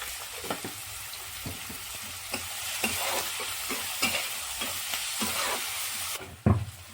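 Veg manchurian balls fry in oil in a pan with a continuous crackling sizzle, broken by scraping stirs and soft knocks of a spatula. A louder clunk comes near the end, and no one speaks.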